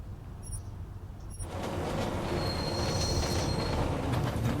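A voice in Deus Ex: Mankind Divided imitates a train. After a quiet start with a few faint chirps, it swells into a loud, sustained, rushing rail-like roar with a high squeal that holds to the end.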